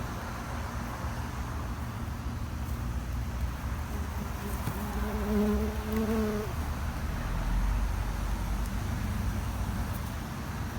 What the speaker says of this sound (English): See the bees chasing them.